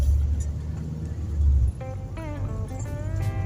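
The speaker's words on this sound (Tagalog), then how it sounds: "medyo marami-rami po yung sasakyan dito dahil ito nga po ay Maharlika Highway" Road traffic on the Maharlika Highway, with a steady low rumble of passing cars and motor vehicles that drops slightly partway through, and a faint voice speaking over the continuing flow.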